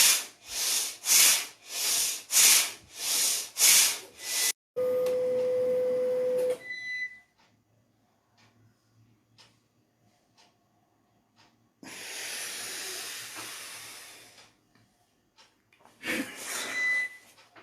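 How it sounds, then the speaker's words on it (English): Forceful yogic breathing exercise: a run of rhythmic, loud nasal exhalations, then a long sustained hiss with a tone, quiet pause, another extended breath, and a final burst of quick breaths. "This is the crown breathing"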